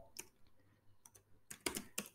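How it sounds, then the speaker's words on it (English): Quiet, close keystrokes on a computer keyboard, a handful of sparse clicks and a quick cluster near the end, entered into a code editor terminal. "on its terminal, I will type pip3"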